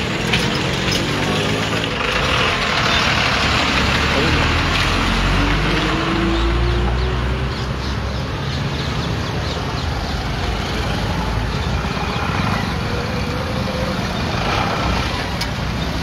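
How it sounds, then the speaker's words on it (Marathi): An auto rickshaw's engine rumbling along a road full of potholes, a loud continuous droning throb with steady road noise throughout. "हे बघा ही रिक्षा"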